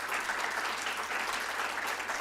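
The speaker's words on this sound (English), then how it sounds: "Give them a big round of applause" Audience members at a town hall on youth mental health give staff a big round of applause, a dense, even wash of many hands clapping throughout with no speech over it.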